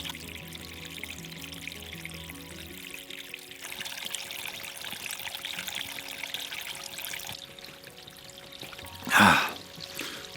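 Spring water seeps and trickles out of the ground in winter, a faint steady flow that runs continuously and ends with a brief louder splash or gust near the end.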